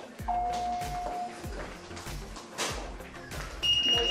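A household device gives out clear electronic beeps, one near the start and another near the end, faint beneath rustling, handling noise and low background sound in a home with a premature baby.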